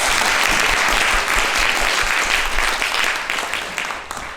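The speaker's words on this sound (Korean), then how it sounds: "큰 박수 부탁드리겠습니다" A lecture audience in Korea gives loud, sustained applause welcoming a Palestinian speaker from Jerusalem, a dense steady clapping that holds for several seconds before thinning slightly at the end.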